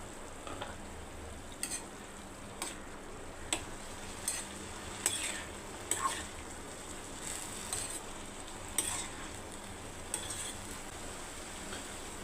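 Green gram tossed into a pan for a thoran and stirred, a soft continuous frying hiss under regular light clinks and scrapes of a spoon against the pan.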